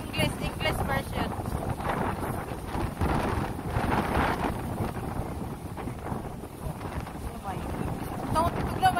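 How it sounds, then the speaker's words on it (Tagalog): Strong wind buffets the microphone on an outdoor walk at Keil's Den during a storm, a steady loud roar throughout with gusty surges, while people talk over it. "Kusog kayong hangin oh. Madunggan ninyo ang hangin, kusog kayo guys."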